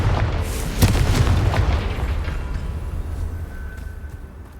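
Confringo spell explosions in the video game Hogwarts Legacy: a deep, loud, booming blast near the start that rolls into a long rumble and slowly fades.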